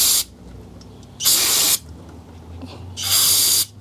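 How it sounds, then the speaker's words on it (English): Brake cleaner sprayed onto a Honda Accord VTEC solenoid valve part: two loud, close hissing bursts of about half a second each, separated by a quiet pause. "Just going to hit this with some brake clean."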